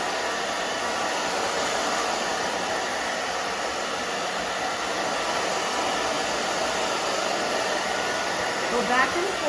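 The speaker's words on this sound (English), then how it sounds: "now I'll show you how we dry it. Just dry the back down." A hair dryer blows steadily on short pixie-cut hair at a salon styling session, a loud, constant airy whoosh that holds nearly unchanged for the whole stretch, close to the microphone with no talking.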